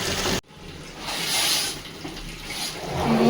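Water runs in a steady rushing stream nearby after a brief cutoff, then swells again and flows continuously with no voices.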